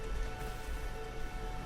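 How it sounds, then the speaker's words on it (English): Rain in the video game Elden Ring falls as a soft, steady patter with a faint hum beneath it, quiet and continuous. "speaking of rain, it's raining right now."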